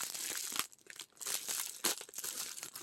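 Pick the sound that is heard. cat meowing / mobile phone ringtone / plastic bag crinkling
plastic bag crinkling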